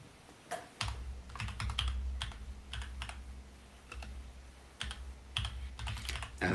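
Someone types a command on a computer keyboard, giving bursts of crisp key clicks with short pauses between, close and fairly quiet, with no talking.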